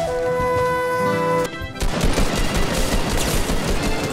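Rapid automatic assault rifle fire in Fortnite Season 8 erupts after a brief tonal passage, a dense burst of sustained shots that keeps going loud to the end.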